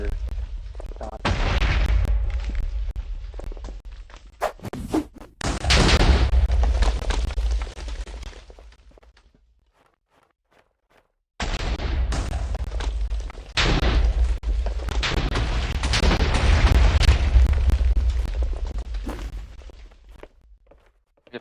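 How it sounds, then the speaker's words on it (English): Explosions and gunshots in a Minecraft war event: muffled booms and pops rumble in two long stretches, separated by a brief silence. "in the distance you can hear shots"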